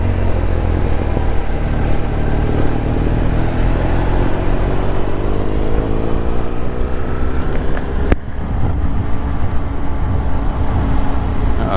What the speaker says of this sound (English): bike behind me, just noticed